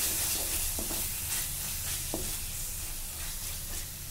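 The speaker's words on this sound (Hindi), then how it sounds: "இது நமக்கு நல்லா கொதிக்கட்டும்" Egg gravy simmers in a pan on the stove, giving a steady close sizzling bubble throughout with a few faint clinks of a utensil, and no talking.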